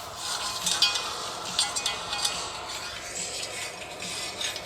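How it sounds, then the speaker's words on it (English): A metal file rasps in quick, repeated strokes, filing rust off metal on a Chevy truck ABS sensor area, a close scratchy grinding that continues steadily without pause. "So I'm going to use a file and keep it nice and flat."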